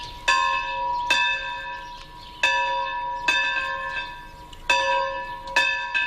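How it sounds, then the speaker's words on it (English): The church bell of St Paul's in the old gold rush town of Murchison tolls at a slow, steady pace, seven clear strikes each ringing on over the last, loud and alone with no voices. "The bell of St Paul's in the old gold rush town of Murchison tolled 17 times this morning"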